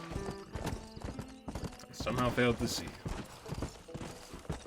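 A horse in Red Dead Redemption, its hooves clip-clopping in a quick steady rhythm, with a whinny rising in the middle, while someone talks over it.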